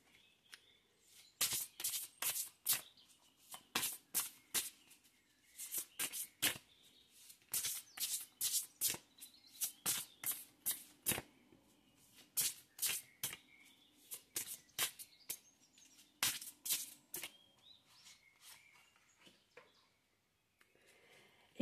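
Tarot cards being drawn and handled, with many quiet, crisp slaps and flicks of cardstock in irregular clusters, close up and with no voices.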